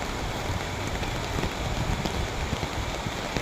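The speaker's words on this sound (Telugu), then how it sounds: "లేట్ అయిపోయి అబ్బా బల్లి వాన వస్తున్నది" Heavy rain pours steadily and loudly on a village road, a dense unbroken wash of drops with no voices.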